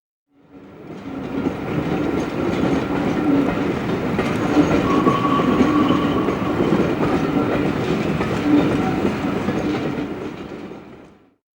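LNER locomotive 60077 White Knight, originally numbered 2576 and built in 1924, running on rails. The train's rumble and clickety-clack of the wheels swell in, hold steady and then fade away.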